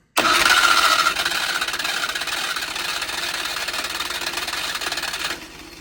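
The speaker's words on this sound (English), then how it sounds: "we're going to see if it'll just fire up on its own and idle" A 1200cc engine with auto choke cranks and fires at once, then runs at a loud, steady, fast idle with a rhythmic mechanical clatter before easing to a quieter idle near the end.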